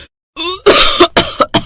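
A woman coughs at midnight in several harsh, close bursts. A rasping throat sound comes first, then a string of quick, loud coughs.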